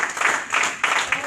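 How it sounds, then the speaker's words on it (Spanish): A church congregation claps together in a short burst of applause, dense and fairly loud with a steady rhythmic pulse and no voices over it. "Aplauda una vez más al Señor de la gloria"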